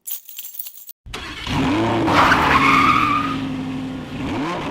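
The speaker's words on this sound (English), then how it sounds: "And so Welshie ignited the engine of the LBP patented space race car and floored it to Necromunda" Engine ignition and hard acceleration of a sci-fi space race car, a brief clatter followed by a loud, sustained rising engine roar with squealing, skidding tones, close and alone with no talk.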